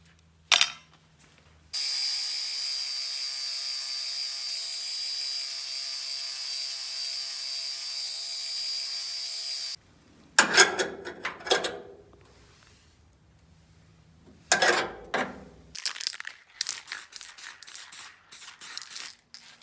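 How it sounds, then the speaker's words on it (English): Power tool grinding burrs off the sheet metal of a 1965 VW Beetle during restoration, heard as one long steady whine followed by several shorter bursts, fairly close and loud with no talk. "Gotta get those burrs off of there."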